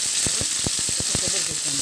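Ginger garlic paste goes into tomatoes frying in a pan for gongura chicken, giving a steady close sizzle with a series of sharp spoon scrapes and stirring knocks.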